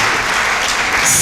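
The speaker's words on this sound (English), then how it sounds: "Please clap for him as he comes to the high table." Summit audience clapping for a guest walking to the high table, a brief dense burst of applause at full strength throughout.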